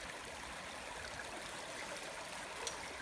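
Steady rushing and trickling of a moorland beck in the North York Moors, close and continuous with no other sounds.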